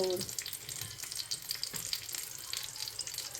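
Onions, tomatoes and spices frying for bhindi masala, a steady close crackling sizzle with brief stirring scrapes throughout.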